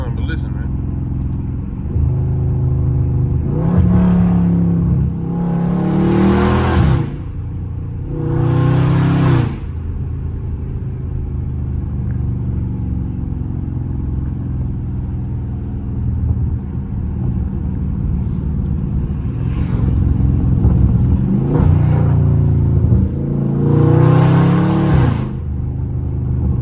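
A loud Dodge Charger Scat Pack V8 roars through several revving bursts, deep rumbling exhaust rising and falling over a heavy idle, with a person talking in between.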